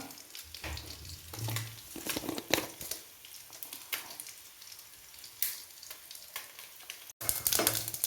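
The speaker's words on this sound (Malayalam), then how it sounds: "കടുക് പൊട്ടുന്നുണ്ട്" Mustard seeds splutter and pop in hot oil in a pan for a drumstick-leaf erissery curry, a near, steady crackle of sharp pops and sizzling with no talk.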